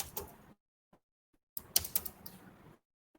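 Keystrokes on a computer keyboard come in two short bursts of quick, close clicking separated by a pause, with a few isolated taps in the quiet gaps.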